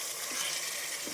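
Masala cooks in hot oil in a pan for chicken biryani, giving a short, even, hissing sizzle at moderate volume.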